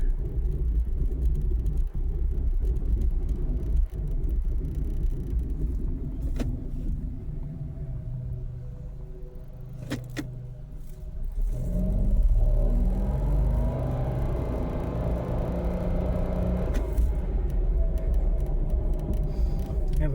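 Interior of a 2019 Mitsubishi Mirage G4 driving on the road after a front wheel bearing repair, a steady low rumble of road and engine noise, fairly subdued and continuous, with brief small clicks.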